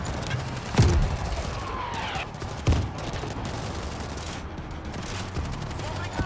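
Scattered gunfire in the zombie shooter World War Z, a few sharp shots standing out at moderate distance against a constant noisy battle din.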